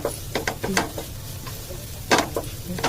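Salt and turmeric stirred through in a pot while making soft vermicelli upma, a few short scraping strokes over a faint, low sizzle, fairly close.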